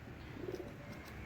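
Deshi Golla pigeons give a faint, low coo, a single soft rolling call over quiet background hiss.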